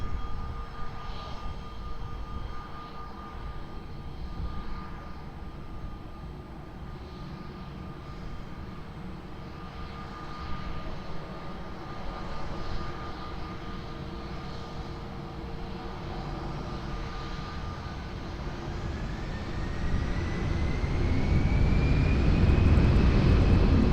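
An airplane taking off at Lisbon Airport, a steady distant engine rumble that grows louder and deeper toward the end as the jet spools up and accelerates, with a rising whine.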